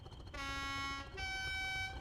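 The horn of a Class 20 locomotive in Train Sim World 2, on the Tees Valley Line, sounds two loud, clear, reedy blasts, one long and one short, over a low rumble.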